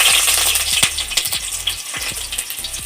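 Chopped garlic and onion fry in ghee in a kadai with cinnamon, cloves and cardamom, a bright steady sizzle broken by repeated scraping stirs, close and alone.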